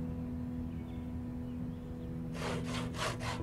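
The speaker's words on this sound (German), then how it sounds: "wir sägen die mal alle." Wooden planks being sawn in the survival game Project Zomboid: after a stretch of low steady game ambience, about four quick, bright rasping saw strokes come in a rhythmic run near the end, close and moderately loud.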